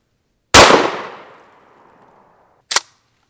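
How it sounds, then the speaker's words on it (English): A single close, sharp blast from a Remington 870 20 gauge pump shotgun firing birdshot outdoors, decaying over about two seconds, followed by a short, sharp metallic clack. "This is actually my girlfriend's little Remington 870 20 gauge"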